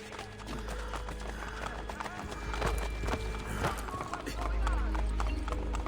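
Horse hooves clip-clop in a fast galloping rhythm in Assassin's Creed Brotherhood, with the game's ambient sound and music underneath and occasional snorts.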